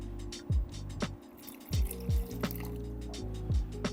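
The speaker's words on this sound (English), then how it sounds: "I'm also going to add a little bit more water" Water poured into a pot of colcannon soup, giving a series of distinct watery bloops and drips spread across a few seconds, fairly close and moderately loud, with no talking.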